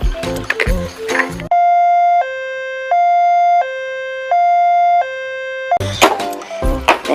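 A toy ambulance siren plays a loud, clear two-tone wail that alternates in a steady rhythm for several seconds. Busier noisy sounds come just before and after it.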